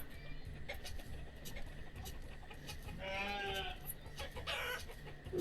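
Chickens clucking in the farming video game Banished, a steady low backdrop of fowl calls with a couple of louder, brighter squawks near the end.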